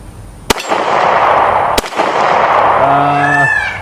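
Two sharp, loud pistol shots from a Taurus G2C firing cheap steel case ammo ring out about a second apart, each followed by a ringing echo, with a faint tonal whine near the end.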